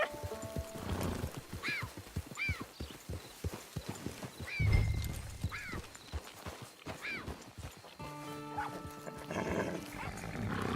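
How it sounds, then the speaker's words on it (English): Horse hooves clip-clop steadily in Red Dead Redemption 2 online, with several high whinnies and neighs ringing out over the trotting, and a burst of music near the end. "Get your horse."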